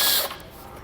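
A socket ratchet turns out 10mm head bolts while a base plate kit is mounted on a 2020 Chevrolet, a short, close metallic clicking burst that fades fast.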